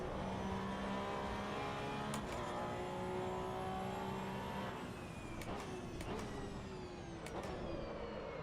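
A Porsche race car in the Assetto Corsa Evo racing game drones with a steady, layered engine tone that rises and falls, with a few sharp clicks as gears change and the brakes lock.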